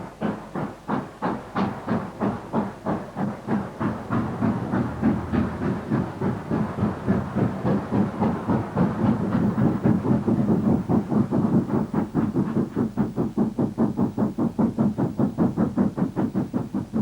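A Southern Railway U class steam passenger locomotive, built without smoke deflectors, works hard with loud, rapid, evenly spaced exhaust chuffs that quicken slightly and hold a steady driving rhythm throughout.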